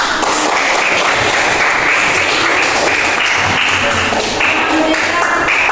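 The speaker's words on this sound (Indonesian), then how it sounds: "Oke, tepuk tangan buat kita." Applause from a classroom of students at the end of a lesson on the human respiratory system, a dense continuous clapping that stays loud and steady throughout, with faint voices mixed in.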